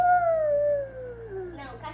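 A young child imitates a wolf howl with a single drawn-out falling vocal tone that fades after about a second and a half, followed by faint soft breathy sounds.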